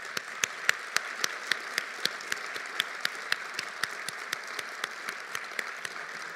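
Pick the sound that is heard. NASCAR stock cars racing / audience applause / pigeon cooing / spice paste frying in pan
audience applause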